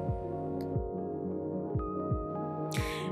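A sewing machine hums steadily nearby with a rhythmic, low mechanical thumping as the needle runs, ending in a brief burst of higher noise.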